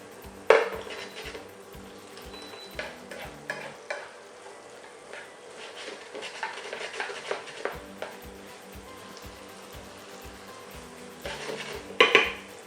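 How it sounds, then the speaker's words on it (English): Chorizo, onions, tomatoes and peppers sizzle steadily in a pan while a utensil stirs and scrapes, with knocks against the metal and a louder clatter of cookware near the end. "Now we just want to cook that down for another 2 or 3 minutes just for the onions to soften"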